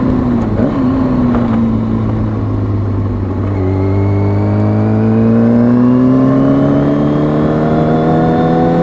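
A motorcycle engine is ridden through a smooth gear change. It hums loud and close at near-constant revs, dips briefly at the shift, then climbs steadily again without jerks.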